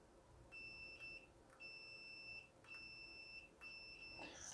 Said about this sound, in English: there is a beeping noise coming from the multimeter when these are pressed